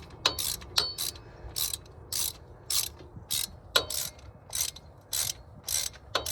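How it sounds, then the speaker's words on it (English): Ratchet wrench bolting an ABS wheel speed sensor onto a new factory-sealed bearing assembly, a series of short bursts of rapid metallic clicking spaced about half a second apart, close and clear with no talk. "Just need to bolt it on."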